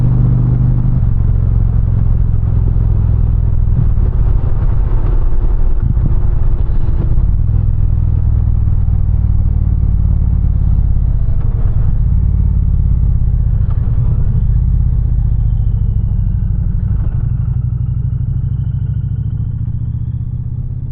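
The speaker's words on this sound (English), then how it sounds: "hopefully we got some good audio clips of the exhaust" Deep, droning slip-on exhaust on an Indian Challenger motorcycle rumbling steadily at idle and low revs, loud and close, with a few subtle rises in engine pitch.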